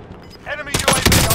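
Gunfire rings out in Call of Duty: Warzone Pacific: after a brief quieter moment, a loud burst of rapid shots lands close by, mixed with voices.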